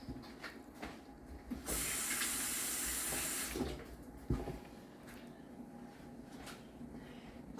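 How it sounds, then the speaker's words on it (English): A kitchen tap runs in a home kitchen for a rinse of the hands, giving a steady hissing stream for about two seconds that ends abruptly, followed by faint clatter and water sounds at low level. "Let me rinse my hands off."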